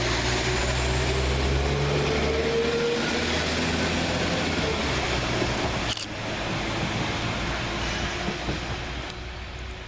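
Class 196 diesel multiple unit 196-101 pulling away from a station, a steady loud engine drone with rising whine and rumble that continues throughout, fading slightly toward the end.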